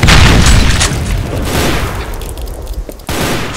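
Heavy gunfire booms in a Doom remake, a loud, dense barrage of close shots and blasts that stays continuous, eases slightly, then surges again near the end.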